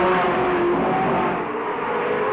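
Stock cars at a 1999 race lapping the track, a continuous loud engine whine and roar blending several cars into a dense, steady drone with no talk.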